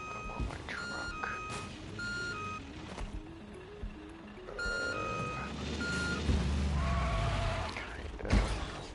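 A truck in the Watch Dogs video game sounds its reversing alarm, a loud, regular series of high beeps over engine rumble and clattering game noise.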